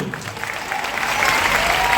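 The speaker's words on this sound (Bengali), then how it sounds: "একটা জোরে হাততালি হোক।" Loud applause from an audience greeting a guest at a computer centre event, swelling steadily from moderate to fuller clapping over two seconds.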